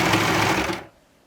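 A serger chains stretchy knit fabric for a cardigan, a dense, close whirring hum that runs steadily and then cuts off abruptly.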